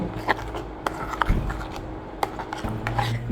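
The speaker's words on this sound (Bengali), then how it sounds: "সবগুলো উপকরণ এখন একসঙ্গে নেড়ে চেড়ে কিছুক্ষণ রান্না করে নেব" A spoon stirs salt, chili powder, sugar, vinegar and tomato ingredients for homemade tomato sauce in a cooking pot, giving close, irregular scraping and knocking clinks.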